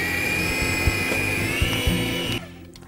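An electric mixer beats Japanese cake batter with a steady high whine and a whirring motor drone, soft knocks of the beaters against the bowl, then the motor winds down at the end.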